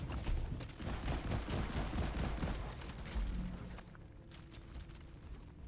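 Automated turrets firing in the co-op video game Deep Rock Galactic, a dense, loud burst of rapid gunfire with booming impacts that thins out near the end, with no talking over it.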